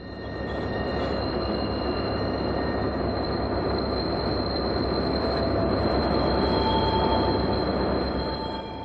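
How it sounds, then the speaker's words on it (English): A diesel freight train meets an eastbound freight in the siding at Azure. A loud, continuous rolling rumble of wagons dominates, with high steady wheel squeal tones over it, close by and unbroken. "We meet another eastbound freight in the siding at Azure."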